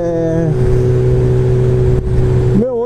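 A motorcycle fitted with a Yoshimura R77 exhaust idles with a steady, deep burble that rises in pitch as the engine revs, then drops back, loud and close.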